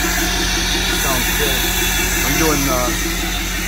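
A 2015 Ford F250 with a 6.7 Power Stroke diesel, EGR and DPF deleted and tuned, idling with a steady, loud, close rumble and hiss, while someone talks briefly over it.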